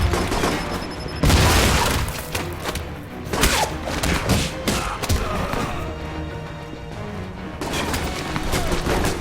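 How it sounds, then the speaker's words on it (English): Flashbang grenade going off in the video game Alpha Protocol, a sharp thudding boom amid game combat noise, with further crashes and impacts rolling through the busy mix. "Hopefully that flashbang at least slowed them down"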